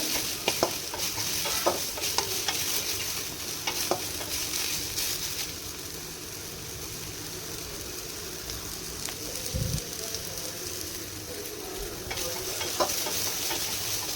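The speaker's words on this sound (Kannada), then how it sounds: "ಈ ಥರ ನೀಟಾಗಿ ಫ್ರೈ ಆಗಿದ್ದಾದಮೇಲೆ" Sliced ridge gourd frying and stirred in a kadai, a steady close sizzle with occasional scrapes of the spoon, continuous and fairly loud throughout.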